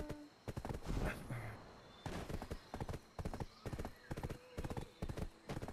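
Horse hooves clip-clop in a rhythmic run of steady footfalls while riding in the Black Desert video game, moderately loud and close, with a brief whinny near the start and light game ambience around them.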